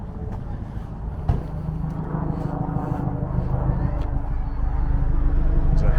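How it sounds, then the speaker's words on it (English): A Chinook helicopter flies in the distance over a park, its low engine drone steady and slowly swelling in loudness, with one sharp knock early on. "There's a helicopter in the distance. Sounds like a Chinook."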